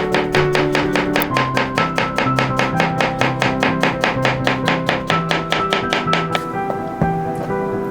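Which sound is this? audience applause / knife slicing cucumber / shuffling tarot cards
knife slicing cucumber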